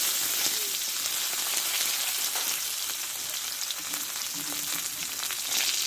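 Tomato added to a pan of frying spices, dried red chilli, bay leaves and small cardamom, producing a steady dense sizzle and crackle with faint spattering pops, close and continuous with no talk.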